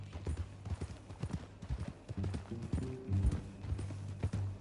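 Rhythmic clip-clop of horse hooves at a walking pace in Red Dead Redemption 2, close and steady, with some creaking tack and faint mechanical clatter alongside.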